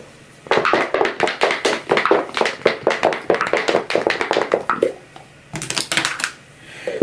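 Dice clattering during a Zombicide: Green Horde board game session, a rapid continuous run of small hard taps and rattles on a tabletop, close and loud, ending in a shorter second burst.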